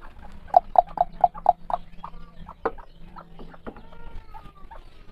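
A bantam hen clucks in a quick series of sharp calls, followed by softer, scattered peeps from her chicks in a backyard cage, all close by.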